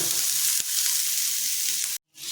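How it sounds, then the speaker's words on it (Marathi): Onion sizzling in a hot pan for a tangy dal and egg curry, a steady close hiss with one brief knock and a short drop to silence near the end. "कांदा थोडा भाजून घेऊया आपण"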